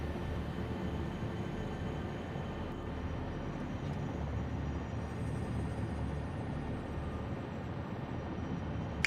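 A train arriving in the factory-building game Satisfactory, heard as a steady low mechanical rumble and drone that holds evenly throughout, with faint higher tones above and no talking.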